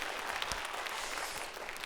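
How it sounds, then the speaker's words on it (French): Steady audience applause greets a jury president at a French-language competition final, a dense continuous patter of many hands clapping at even loudness throughout, with no voices over it. "applaudissements pour notre président"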